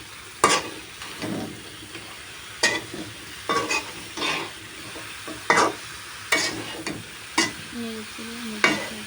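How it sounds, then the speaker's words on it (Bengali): A spatula scrapes and stirs pointed gourd curry with prawns in a pan in about nine separate strokes, over a low background sizzle. "এখন একটু নেড়ে নেব।"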